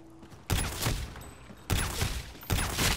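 Call of Duty gunfire lands as three sharp bursts of shots about a second apart, each a loud crack trailing into a short rattle against a quiet game background.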